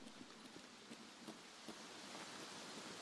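Steady rain falling in the game Escape from Tarkov, a faint, even hiss with light scattered droplet ticks throughout and no voices.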